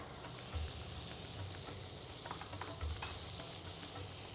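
Coriander and curry leaves drop into a masala frying in a pan, giving a steady, close sizzle and hiss with faint stirring scrapes and nobody talking.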